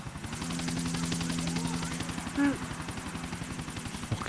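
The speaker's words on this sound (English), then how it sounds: "Told you I hate fucking choppers." A helicopter in GTA 4: The Ballad of Gay Tony gives a steady low rotor drone with rapid rhythmic chopping, heard alone with no talk, with a brief sharper burst partway through.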